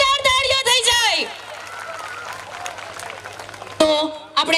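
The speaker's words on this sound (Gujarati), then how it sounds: "બાબા સાહેબની આ દીકરી માટે ફરી એકવાર જોરદાર તાળીઓ થઈ જાય" Audience applause at an Ambedkar Jayanti gathering, a broad wash of clapping rising between a speaker's voice at the start and brief talk near the end.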